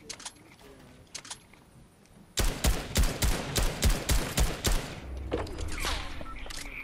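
Gunfire in a video game arena match: a rapid, loud burst of about a dozen shots fires in quick rhythm after a few scattered distant pops, then trails off into lingering rumble.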